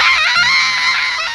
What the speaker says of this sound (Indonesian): Suasana semakin gaduh dengan teriakan Mona yang melengking.